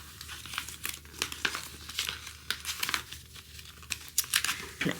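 Foil sticker sheets crinkle and rustle as they are handled and sorted, a continuous run of close, light crackles and flaps with no talking.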